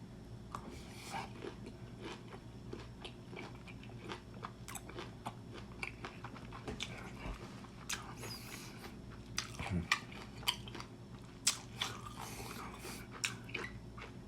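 Close, quiet wet bites and chewing on the remaining half of a lime or grapefruit, with repeated juicy crunches and squishes spread over a soft background.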